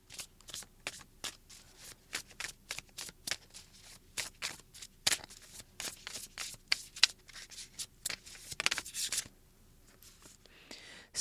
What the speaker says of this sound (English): I am going to pull a card for the episode. This is from the Golden Mantras Affirmation deck.